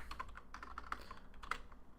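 Quiet rapid typing on a computer keyboard, a quick irregular patter of light key clicks with a few sharper taps, heard close and alone.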